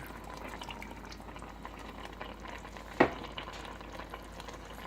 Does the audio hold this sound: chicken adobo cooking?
yes